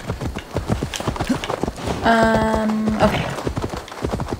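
A horse's hooves clip-clop in steady rhythm in the video game Assassin's Creed Valhalla, close and clear, with a brief tonal game sound midway and a voice speaking briefly.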